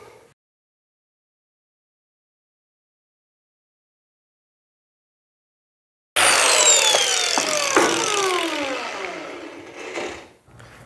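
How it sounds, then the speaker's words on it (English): After several seconds of silence, an angle grinder with a cutoff wheel bites into steel, cutting serrations: a loud, sustained, harsh whine with shifting pitch that runs to the end and then drops as it eases off. "we're just gonna get an angle grinder with the cutoff wheel and make a series of serrations on the top and on the bottom"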